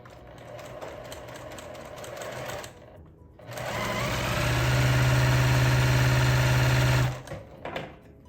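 Electric sewing machine stitching quilt block pieces on the diagonal, a steady loud mechanical whir with rapid needle chatter running for several seconds after a short start, then stopping.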